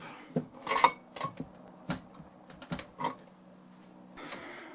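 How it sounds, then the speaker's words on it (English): Metal wrenches clink and tap against compressor fittings on a Campbell Hausfeld air compressor, a scattered run of short sharp metallic knocks, close and fairly quiet, with pauses in between. "I'm going to grab the wrenches, tighten these back up"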